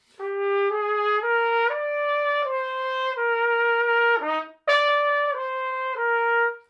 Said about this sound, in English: because if I tongue it too hard, it'll sound like this.